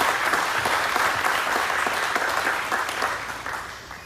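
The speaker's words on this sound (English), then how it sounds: "Another round of applause for Mike Goldware and that committee." Audience applause fills a Medal of Honor ceremony, a dense, steady wash of many hands clapping together that holds strong and then tapers slightly toward the end.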